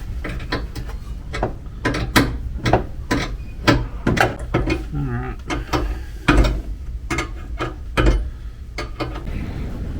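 A wrench ratchets in short bursts while lines are tightened on a Jeep Liberty suspension, with sharp metallic clicks and clanks at an irregular pace close by. A voice is briefly heard in between.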